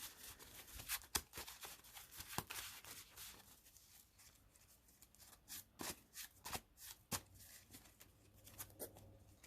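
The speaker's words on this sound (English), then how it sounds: "Shuffle real quick." A deck of trading cards for a dueling game is shuffled by hand in quick, faint riffles and snaps, the soft papery bursts coming in an uneven rhythm close by.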